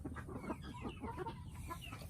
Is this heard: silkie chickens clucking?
yes